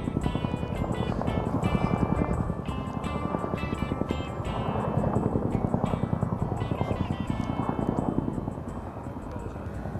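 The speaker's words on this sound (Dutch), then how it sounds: "nou hoor ik een helikopter" A helicopter's rotor thumps in a fast, steady chop, loud and sustained throughout with no talking.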